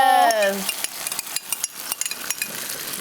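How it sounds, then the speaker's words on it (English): Salsa dumped into a hot pan with tortillas sets off a sizzle, followed by a string of irregular scrapes and clatters as the pan's contents are stirred. A voice speaks briefly at the start. "Hey, you can just dump it in. You're gonna hear that sizzle."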